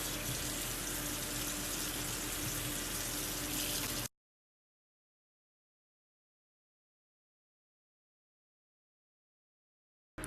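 Acorn squash seeds get rinsed in a strainer under a kitchen tap, a loud steady stream of running water that cuts off suddenly into silence.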